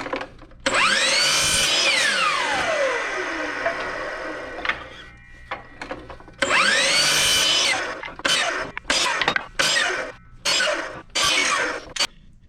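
A power saw cuts 45-degree angles on small wood pieces, a long whining spin-up and cut followed by a series of shorter bursts, loud and close with no talking.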